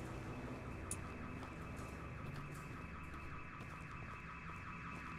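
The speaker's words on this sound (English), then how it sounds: "Is that a car alarm?" A car alarm wails in a cosmic horror video game, a continuous cycling electronic tone at a steady, moderately distant level over low background rumble.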